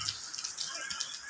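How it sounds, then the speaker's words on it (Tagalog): Steady patter of rainwater dripping and trickling, close by, with a soft hiss of summer rain in the background and no voices. "At naririnig nyo ba yung tumutulo doon?"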